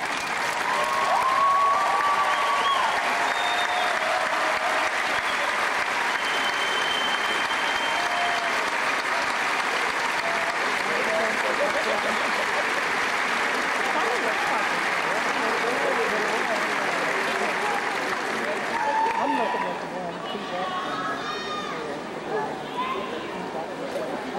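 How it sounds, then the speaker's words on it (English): Graduates at a university commencement stand and applaud their families and friends. The applause fills the hall as one long, loud, continuous wash, with crowd noise under it and only a slight thinning near the end. "graduates, please stand and give a big round of applause for your families and friends"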